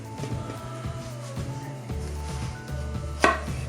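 A kitchen knife slices the stem cap off an aubergine on a cutting board, giving a few close, firm chopping knocks and one sharper snap near the end, with no talk.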